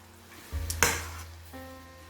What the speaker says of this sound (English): our oil is heated up, you can see. So I'm just going to give it a fine mix